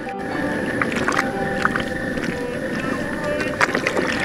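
A paddle stirs a pot of cut tomatoes as they cook down into a soupy sauce, with continuous wet sloshing and squelching and occasional soft knocks, close to the microphone.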